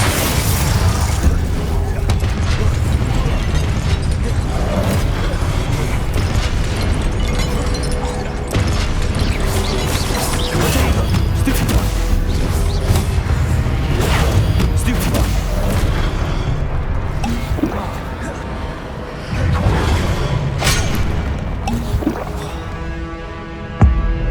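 Dense, continuous combat noise from Hogwarts Legacy with Confringo blast spells exploding, overlapping booms and crackling bursts at loud, sustained level throughout with no clear pauses.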